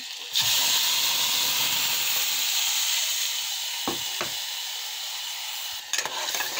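Onion, cumin, turmeric and spice paste sizzling in hot oil in a pan, a loud steady hiss that fades slightly over time, with a couple of faint stirring knocks and no talking.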